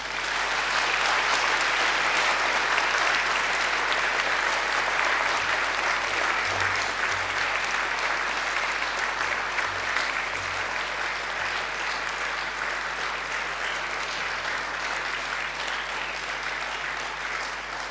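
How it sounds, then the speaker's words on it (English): An audience of families and friends at a graduation ceremony gives a long, sustained round of applause, dense and even throughout with a slight fade toward the end, and no talking over it. "now I invite you to give them a mighty round of applause."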